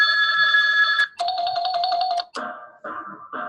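Office desk phone on a new phone system playing its ringtone, a bright electronic melody of sustained tones in shifting pitches, clear and close with no talk.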